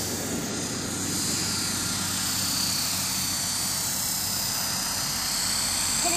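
Radio-controlled model helicopter flying high overhead, a steady continuous rotor and motor whine holding level throughout, fairly loud with no talk.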